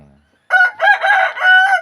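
A fighting rooster crows loudly and close by, one long harmonic call broken into several surging phrases after a brief quiet start.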